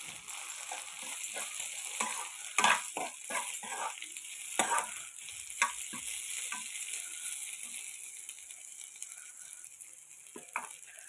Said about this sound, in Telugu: వంకాయ ఇదిగోండి వేగింది బాగా.